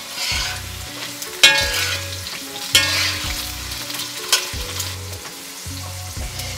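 Potatoes fry in bubbling oil for a crispy, spicy aloo curry, giving a steady close sizzle with a few sharp clanks of a spoon against the pan.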